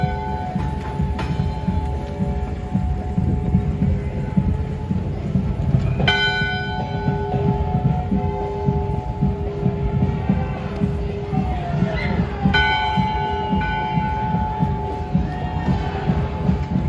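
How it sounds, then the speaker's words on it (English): Strikes of a big bell mounted on a Viking ship float at a Norwegian Day parade in New York City, ringing out at about 6 and 12.5 seconds with long harmonic decays over steady crowd and street noise. "They're ringing the big old bell here."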